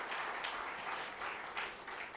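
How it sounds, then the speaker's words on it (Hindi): An indoor audience at a spiritual talk breaks into loud, sustained applause, a dense wash of many hands clapping steadily for the full stretch with no pauses. "अपने परिवारजनों के लिए एक बार जोर से ताली बजाइए"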